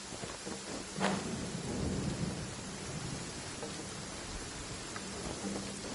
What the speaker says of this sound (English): Oh, it's really coming down.